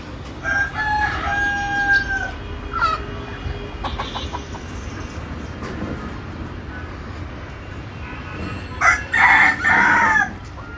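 Chickens cluck nearby while a rooster crows, with a louder burst of crowing toward the end over a busy outdoor background.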